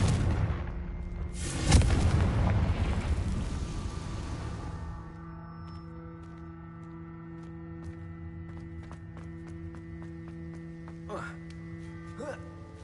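A Confringo blasting spell detonates in Hogwarts Legacy, a loud booming burst that rolls out and decays over several seconds. Sharp crackles and small impacts follow, with a sustained tonal hum underneath.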